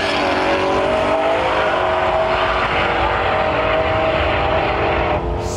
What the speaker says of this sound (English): Nick's up for another pass here at Rimby.